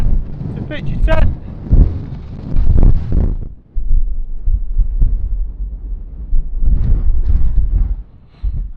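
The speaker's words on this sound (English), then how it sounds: "And the wind is brutal" Strong wind buffets the microphone on an exposed mountain ridge near Pavey Ark in the Lake District, roaring in heavy gusts that rise and fall over several seconds, with a brief lull near the middle.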